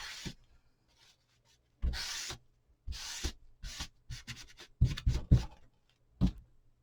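Antique wax is rubbed onto wood in close, scratchy strokes that come in irregular bursts, some long sweeps and some quick short rubs, with quiet gaps between them.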